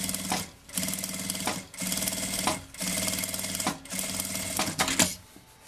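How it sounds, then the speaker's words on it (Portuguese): A sewing machine runs a seam along a fabric edge with the presser foot for a handbag, in fast rattling bursts separated by brief pauses, close and loud with no talk. "vou passar uma costura com um pé de máquina"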